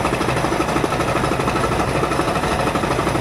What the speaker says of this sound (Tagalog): Iba na yung tunog ng makina natin.